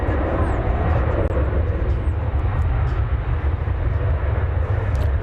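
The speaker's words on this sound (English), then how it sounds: "We have an American Eagle plane coming in from Albuquerque, New Mexico" An American Eagle Embraer 175 passenger plane arriving at DFW Airport, a loud continuous jet engine roar with broadband rumble, steady throughout.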